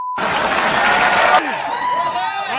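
An audience claps and cheers loudly in a dense, continuous burst that cuts off abruptly partway through, leaving lighter scattered crowd noise and voices behind.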